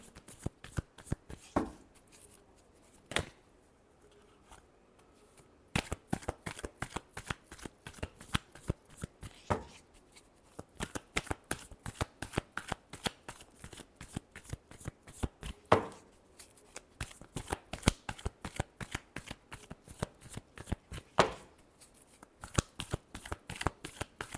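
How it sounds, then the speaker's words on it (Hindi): Tarot cards being shuffled by hand in quick, crisp bursts of riffling and flicking, close and clear, separated by brief quiet pauses, with no talking. "Last shuffle."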